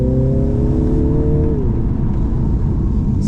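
A 2021 Mini Countryman JCW 306 revs in sports mode, a loud, steady engine drone with a rising then falling tone, heard close from inside the car with no talking.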